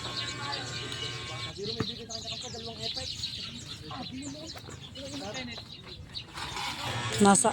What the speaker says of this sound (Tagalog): Napakasarap pong pakinggan ng mga huni ng ibon, nakaka-relax po.